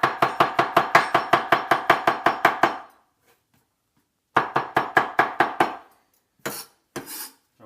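Knife chopping fresh white mushroom and lettuce on a board: a fast, regular run of crisp close chops, a pause, a second shorter run, then two isolated knocks.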